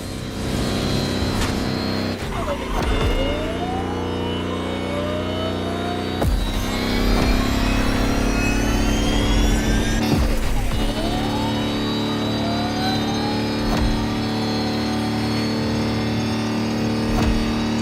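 Electric Lamborghini hypercar concept in The Crew Motorfest racing game, accelerating with a loud, continuous rising electric whine that climbs in pitch in repeated sweeps, with game music and sound effects layered over it.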